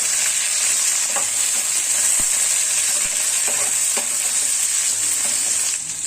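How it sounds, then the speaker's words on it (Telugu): Potato curry with green chillies bubbles and sizzles in a pan while a spoon scrapes and stirs through it in irregular strokes, a steady close frying hiss throughout with no talking. "ఇప్పుడు పచ్చిమిర్చి వేసుకోవాలండి ఇప్పుడు అంతా ఒకసారి మళ్ళీ కలుపుకోవాలండి"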